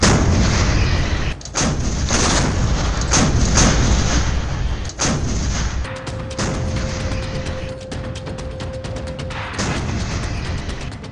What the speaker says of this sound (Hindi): भारत को अभेद कवच पहनाने वाली तोप का डबल धमाका